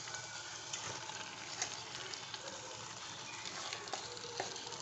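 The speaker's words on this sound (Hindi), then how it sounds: "देखिए मसाला हमारा अच्छे से भून चुका है। अब मैं डालूंगी उसमें ये चिकन और दाल" Chicken and dal sizzling as they are stirred into fried masala in a pan, a soft, continuous frying crackle with occasional spoon scrapes, heard close and quiet.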